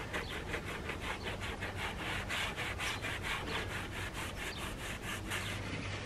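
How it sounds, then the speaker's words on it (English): Applicator pad rubbing Gyeon Q2 Tire shine into a tire sidewall, a steady run of quick back-and-forth scrubbing strokes, close and fairly quiet, with no talking. "just like any other kind of tire shine, just come in and just rub it in"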